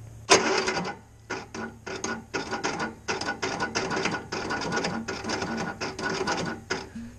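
Engine cranking over slowly with a starter, a long run of rhythmic mechanical bursts repeating steadily and close by, unable to catch, with no voices.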